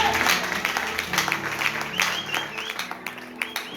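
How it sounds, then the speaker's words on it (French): Audience applause after a reading, with steady clapping and faint crowd noise, moderately loud and continuous throughout. "Est-ce qu'on peut acclamer pour la lecture?"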